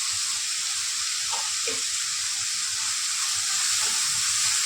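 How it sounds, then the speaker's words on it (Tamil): Ridge gourd sautés in a pan with sambar powder, chili powder, turmeric, salt and asafoetida, giving a steady, loud, even sizzle with faint stirring touches underneath. "இதோட நல்லா மிக்ஸ் பண்ணி சாம்பார் தூள் தூள் வாசனை போக நல்லா வதக்கிக்கணும்"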